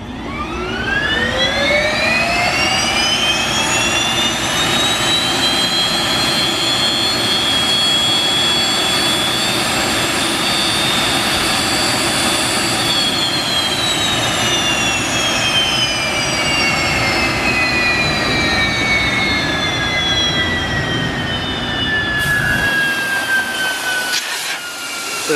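Jet engine motoring during an igniter-hole water rinse, a loud continuous roar with a whine that rises steeply, holds, then slowly falls before cutting off sharply near the end.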